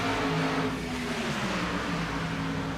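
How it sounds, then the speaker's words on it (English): Race cars sweep through the turns at Daytona with a steady, loud engine roar that holds for a few seconds, no voices over it. "We get a close-up view of these cars coming through the turns."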